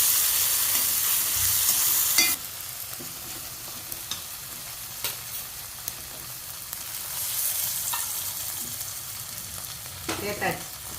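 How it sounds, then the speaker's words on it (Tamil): Green chilies and tomatoes sauté in a pan for chicken varuval, a loud sizzle at first that drops to a steady, softer frying hiss with occasional stirring scrapes. "பச்சை மிளகாய் தக்காளியும் போட்டிருக்கு, வதங்கட்டும்"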